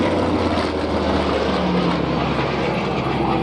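A propeller warplane flying past at the Duxford Flying Legends air show, a loud continuous droning engine roar with no break.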